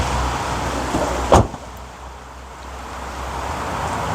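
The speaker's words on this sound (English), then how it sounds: "now as I close the door" A car door on a vehicle under welding repair swings shut with a single short thud, followed by quiet workshop background.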